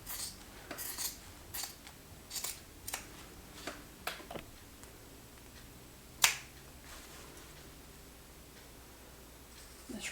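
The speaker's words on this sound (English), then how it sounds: "I'm only cutting through the facing layer." Scissors snipping through the facing layer of a fabric apron hem, a series of small sharp clicks and cuts spaced irregularly, fairly close and quiet, with one louder snip near the end.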